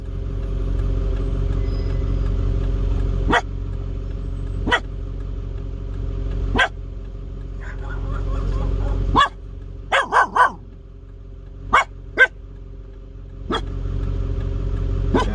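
Scattered barks from a dog inside a truck on a highway, single sharp yaps at first then a quick cluster of several, over a constant low traffic-like hum.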